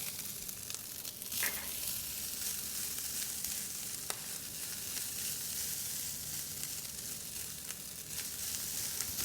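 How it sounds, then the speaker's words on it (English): Butter melts and sizzles in a hot pan over fried rice with vegetables, onions and garlic, a steady close crackle with a brief clink early on. "now we're going to add the butter"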